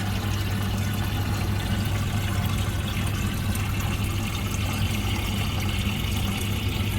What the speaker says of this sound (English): Now when you've turned the water back on, you need to watch it filling up.